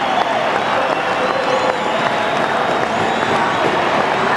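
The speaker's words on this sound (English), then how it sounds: "And now the crowd rises to cheer them off." A stadium crowd at a 1990 Australian football match between West Coast and St Kilda applauds and cheers the team off the field, a dense, sustained roar of clapping and cheering that fills the space with no pauses.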